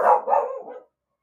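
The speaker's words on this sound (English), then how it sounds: "one little dog has a bark" A small dog gives one short, sharp bark close by, a single clear yap that stops abruptly and is followed by silence.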